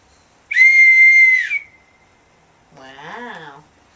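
A whistle blown in a dog training session, one long steady loud blast followed after a pause by a shorter warbling, wavering whistle tone.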